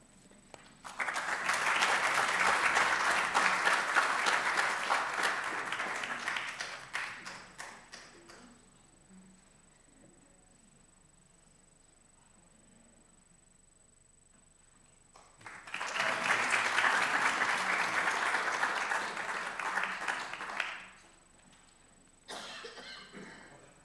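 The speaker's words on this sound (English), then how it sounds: "another hand of applause" Audience applause at a university inaugural lecture rises in a long dense burst, stops for a stretch of near quiet with scattered coughs, then returns in a second sustained round before a brief final patter.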